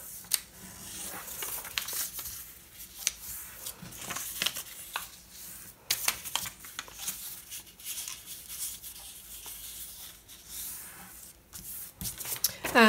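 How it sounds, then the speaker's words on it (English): Paper for an envelope stencil is creased and folded by hand, giving soft, close rustles and sharp crinkles at irregular intervals, with quiet talk. "And then fold your envelope."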